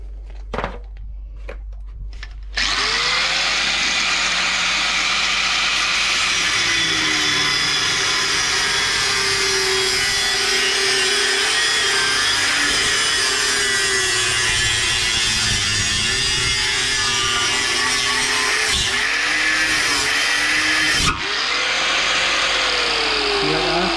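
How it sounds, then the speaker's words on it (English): A hacksaw blade cuts through a Milltek car exhaust, producing a loud, continuous, close grinding and buzzing cutting noise that runs almost without a break after a brief start, with a voice talking over it. "I'm going to finish this last bit with the hacksaw blade"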